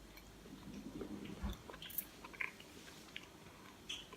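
Biting into and chewing a broken piece of cookie butter chocolate bar, with a few soft crunchy bites and moist chewing sounds close up, fairly quiet, no talking.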